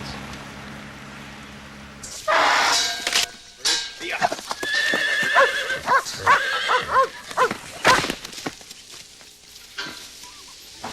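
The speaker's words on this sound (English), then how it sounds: "Next up is an operation on one of Tony's young stallions" A young stallion on an outback property neighs loudly and repeatedly in close range, with shuffling hoof sounds and other movement noises around it after a quiet start.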